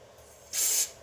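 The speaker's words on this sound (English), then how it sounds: "Spray just a little on the tip there and help it slide right on." A short, sharp hiss of an aerosol can of fogging oil sprayed onto a fuel fitting on a Ford 390 engine, about a third of a second long, close by against a quiet background.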